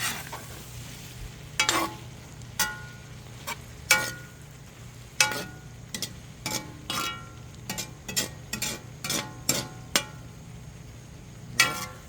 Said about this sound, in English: I'm going to give this a good mix around